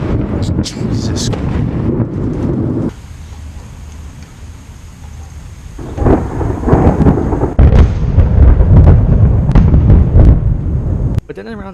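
Thunder from a severe thunderstorm in New Jersey: loud, booming crashes and rumbles come in heavy broadband bursts, with a quieter lull between them and a voice briefly heard.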